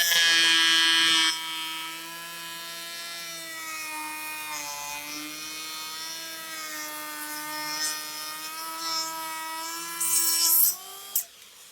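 A Makita electric planer shaves a wood surface to a set depth of about a millimeter, its loud steady whining motor running alone for nearly twelve seconds, with a brief louder bite at the start and a rougher cut near the end before it winds down.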